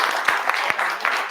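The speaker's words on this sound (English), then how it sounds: "Can everybody give Imani a round of applause" An audience at a brand and commercial release livestream applauds with brief, dense clapping for about a second and a half, at a moderate level.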